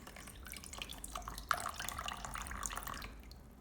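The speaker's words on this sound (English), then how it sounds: "Next, drain the water." Water drains off washed rice in a steady, quiet trickle with small drips and splashes close by, and no one speaks.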